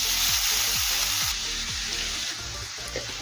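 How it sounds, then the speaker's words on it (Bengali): Grated carrot frying in hot ghee for carrot halwa: a dense, close, loud sizzle with a low rumble underneath, steady throughout and without voices. "এখন আমি ঘিয়ের মধ্যে দেবো গ্রেট করে নিয়ে গাজর"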